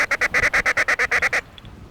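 A mallard duck call blown in a rapid, rhythmic feeding chuckle, about a dozen quick clipped notes in an even run that stops abruptly, close and clear with no talking.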